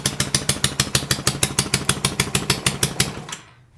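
Honda Ruckus scooter with a fabricated rear frame, its engine running close and loud in fast, even pulsing bursts, then cutting off abruptly and falling silent.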